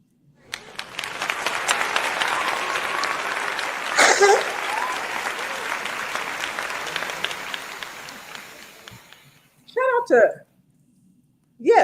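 Applause on a live podcast swells for several seconds and fades out, followed by a short moment of quiet and a few spoken words near the end.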